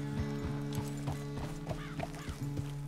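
A horse in Red Dead Redemption 2 walks with regular clip-clopping hoof steps, faint and steady, with a few higher creaks and a brief whinny-like tone mixed in.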